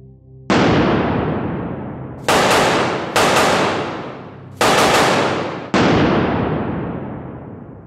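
An infantry support machine gun fires five loud, separate blasts, each with a sharp onset and a long echoing decay, spaced unevenly over several seconds.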